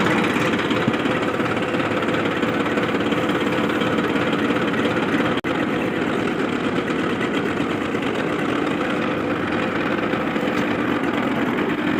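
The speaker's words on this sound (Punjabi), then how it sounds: "ਟਰੈਕਟਰ ਚਲਾਉਂਦੇ" A tractor engine runs steadily at a low, rumbling idle in a field during sugarcane planting, with one sharp click partway through.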